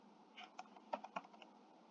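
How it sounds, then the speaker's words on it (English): Typing on a computer keyboard, a short irregular burst of about eight crisp key clicks, close and fairly quiet, with no voice. "So if you start typing"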